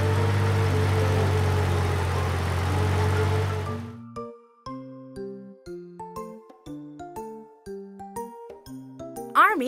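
A toy army car gives a loud, steady engine idle for about four seconds, then cuts to a short, bright electronic jingle of plinking tones.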